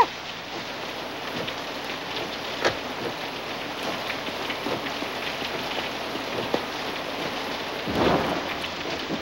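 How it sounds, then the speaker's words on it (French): Heavy thunderstorm in a film scene: steady rain pours throughout while thunder cracks and rumbles break in a few times, with a louder roll near the end. "c'est l'orage et tous ces éclairs qui te rendent un peu nerveux, rien d'autre."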